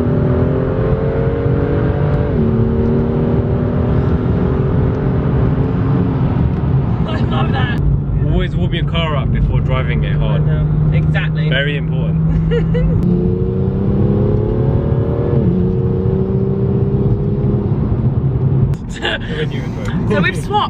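A BMW M2 GTS engine pulls hard through the gears from inside the car, rising in pitch, dropping at each shift and climbing again, with a steady loud drone; brief speech comes near the end.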